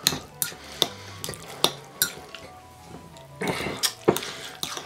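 Chicken meatball mixture with lime juice is stirred in a bowl, giving a series of regular wet knocks and scrapes about every half second, close and moderately quiet.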